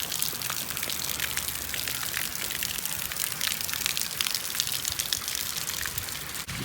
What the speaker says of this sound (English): Hot Wheels water slide.